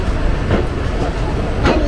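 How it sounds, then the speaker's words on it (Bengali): A train rolls along the platform at Kharagpur station, one of India's longest, giving a loud, steady rumble with faint wheel clatter close by. "খড়গপুর স্টেশনে ঢুকলে কতক্ষণ ধরে যে ট্রেনটা প্ল্যাটফর্ম দিয়ে লম্বা যায়"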